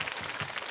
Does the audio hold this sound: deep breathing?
no